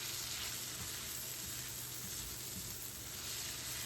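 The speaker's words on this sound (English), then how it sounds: "Everything's all cooking together, caramelising nicely together." Penne pasta sauce frying in a pan as it cooks down and caramelises, a constant close, loud sizzle and hiss with no break and no talking.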